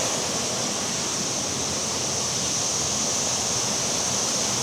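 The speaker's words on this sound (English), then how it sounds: "beautiful pool at the base of the waterfall. Pretty good flow" A waterfall pours steadily into a pool at its base during the midday, a constant broadband rush that stays even and unbroken throughout, with no voices.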